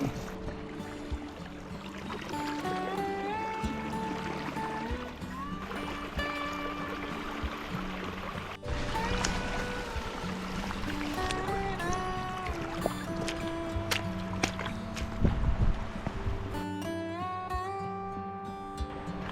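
Feet wading through shallow water on a flooded creek trail, steady splashing and trickling with a continuous watery wash, close and moderately loud, no talk.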